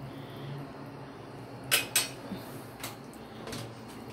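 A couple of quick metallic clanks as a lid is set back on a pot of beef soup, over a quiet kitchen background.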